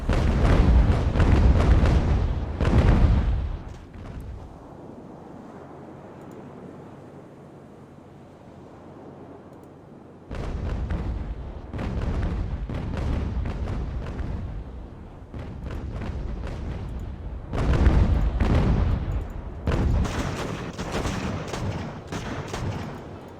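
Ship cannons firing in the Ultimate Admiral: Age of Sail naval video game: loud, booming broadside volleys in several heavy bursts, with a quieter stretch of wind and sea wash between them.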